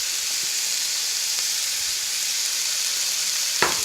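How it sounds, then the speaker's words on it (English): Ground meat and chopped onion fry with taco seasoning for breakfast enchiladas, giving a loud, steady sizzle throughout with one brief utensil clack near the end. "Also add that in there so it fries in with your meat."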